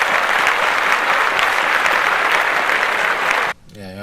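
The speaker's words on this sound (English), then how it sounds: "Clap that up again." Steady, dense applause from a podcast studio group fills the space at full volume for about three and a half seconds, then cuts off abruptly into quieter sound.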